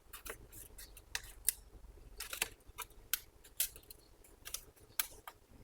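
Cutting open the plastic packaging of Crescent Nicolson thread files, a quiet series of sharp snips and crackling clicks at close range, irregular and fairly faint.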